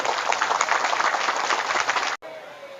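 A crowd applauds continuously at an Indonesian gathering honoring Banser guards, a dense steady wash of clapping that cuts off abruptly near the end and is followed by a brief quieter moment.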